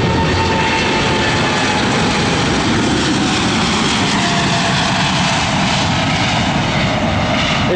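A Boeing 787 heavy jet taking off, its engines a loud, steady, continuous roar heard from inside the aircraft, broadband and unbroken with no talk.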